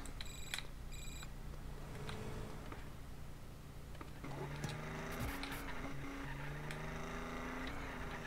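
A telephone rings inside GTA San Andreas, with repeated electronic ring tones and beeps heard alone at low volume, no talk in between.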